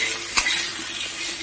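Potatoes fry in shallow oil with salt and turmeric while being stirred, giving a steady close sizzle with a single sharper scrape of the utensil partway through; no voices.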